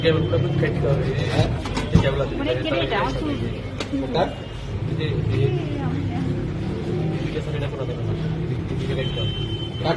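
Screws being unscrewed to open a hard disk, with small ratcheting mechanical clicks and tool chatter heard close up while people talk throughout.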